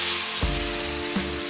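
Ground masala frying in a pan for a South Indian fish and crab meal, a steady close sizzle with a couple of brief louder bursts as it is stirred.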